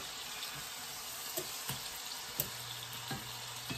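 Salisbury steak patties sear in a cast iron skillet with a steady, low broadband sizzle throughout, broken by a few faint pops and clicks; no voices.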